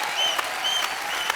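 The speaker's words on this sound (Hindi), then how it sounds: "ताली बजाओ, क्या बात बजाओ" Studio audience applause at a comedy talk show: a steady, dense wash of many hands clapping close and loud across the whole moment, with a few sharper claps standing out.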